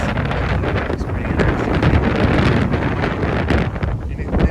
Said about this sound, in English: Pretty windy today.